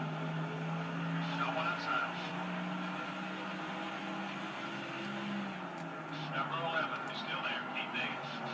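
Race cars wreck and skid on a 1.25-mile oval in NASCAR Thunder 2004, with a steady engine drone and brief tire squeals over a continuous roar, partly under a commentator's voice.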